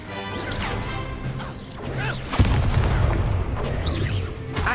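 A spell impact from the Hogwarts Legacy video game lands as a loud crash and boom partway through, over a dense bed of game sound effects and music.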